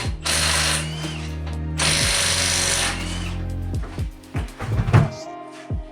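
A hand ratchet clicks rapidly in long bursts while wheels come off a BMW with an N54 engine, loud and close, the runs followed by slower single clicks and clanks of tools.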